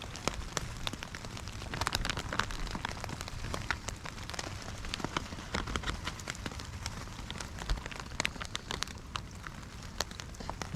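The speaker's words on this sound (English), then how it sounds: "So it's really raining today" Heavy rain pattering steadily on a tarp and surrounding surfaces at a wet outdoor survival camp, with dense close drops and scattered louder splats throughout, no talking.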